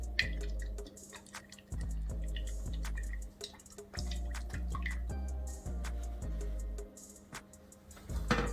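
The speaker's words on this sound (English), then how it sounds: "Place some olive oil in the pan." Olive oil poured into a cooking pan, heard as a run of close, irregular drips and small liquid ticks over a steady low hum, with no talking.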